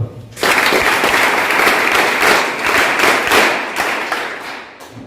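A crowd at an academy anniversary event breaks into loud, sustained applause that starts suddenly and continues steadily before tapering slightly at the end.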